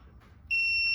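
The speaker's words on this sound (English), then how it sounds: "I guess it's beep beeping." AtemPower 12v 100ah battery hub buzzer sounding a sudden steady electronic beep tone that starts halfway through and holds loud and unbroken to the end, after a quiet hum.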